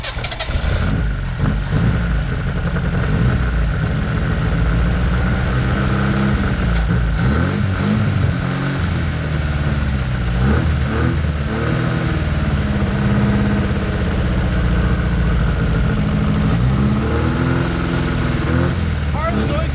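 A car engine idles roughly, with timing not set and a raspy noise from the EGR, a close, uneven rumble that rises and falls while people talk over it.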